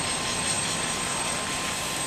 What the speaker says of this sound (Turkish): 6 yıl önce Edirne cezaevine getirildiği helikopter havalandı önce